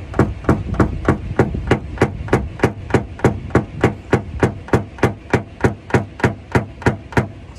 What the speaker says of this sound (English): Then get a good old hockey stick up in there.